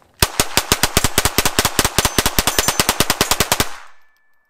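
Two Kel-Tec P17 pistols fire together in a long, rapid string of about thirty sharp, loud pops with a steady fast rhythm, close by, ending abruptly with a faint ring.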